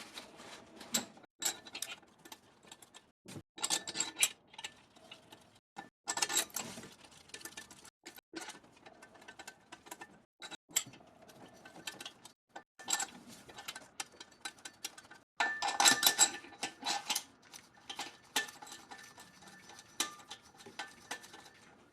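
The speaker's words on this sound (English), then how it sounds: "I'm going to drop the bolts in now. Start threading that in a little bit" Bolts dropped into the cylinder head of a 2008 Acura MDX and started by hand, giving a run of close, light metallic clicks and ticks in an irregular rhythm with short pauses, no talking.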